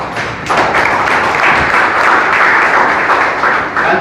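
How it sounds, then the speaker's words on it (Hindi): An audience at a business seminar breaks into sustained, fairly loud applause, a steady wash of clapping that fills the room from start to finish with no speech over it. "बहुत देर के बाद तालियां बजी।"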